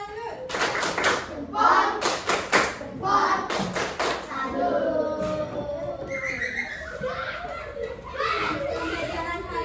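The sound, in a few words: class clapping hands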